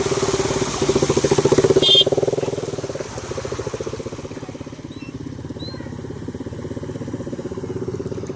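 Motorbikes ease slowly through a flooded road, a low, pulsing engine putter rising briefly louder early on and then settling into a steady idle-like chug.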